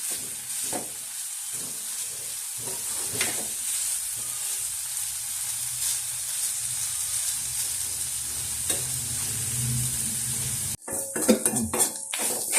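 Ginger stir-frying over a high flame for Onam inji curry, a steady close sizzle with repeated scrapes and clinks of a spatula against the pan, ending in sharper metallic knocks.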